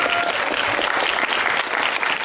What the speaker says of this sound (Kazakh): Қол шапалақ.